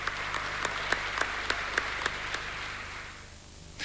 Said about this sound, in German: Der Beifall am Ende seiner Rede war eher kläglich.